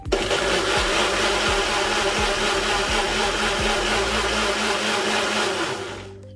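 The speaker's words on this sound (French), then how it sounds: "Ça fait du bruit, vous entendez? Voilà, je fais plusieurs fois des allers-retours pour bien le broyer." A blender grinds ginger and lemon in a loud, close, continuous whir with rhythmic pulsing as the load churns, winding down and stopping just before the end.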